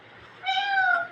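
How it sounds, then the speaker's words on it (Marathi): A cat gives a single clear, drawn-out meow up close, rising and holding before it fades, in an otherwise quiet room. "मांजरीचा आवाज आला ना तुला?"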